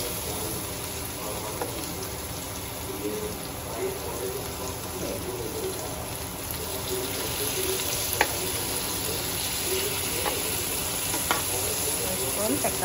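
Chicken kebab frying on a grill pan: a steady broadband sizzle runs throughout with occasional stir and scrape clicks, fairly loud and close, with no talking.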